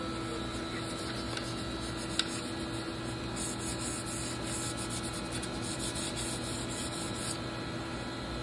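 Fine 320-grit sandpaper rubs over a flintlock rifle stock in a steady, close scratching hiss of continuous back-and-forth strokes over a faint background hum.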